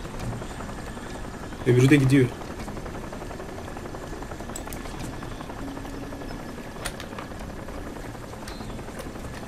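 A helicopter's rotor drone in the video game Crysis hums steadily throughout, with a short spoken phrase from a man near the start.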